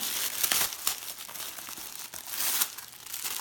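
Tissue paper crinkling while a mail package is opened, a close, loud run of crackling rustles that swell and fade in bursts without pause, with no talking.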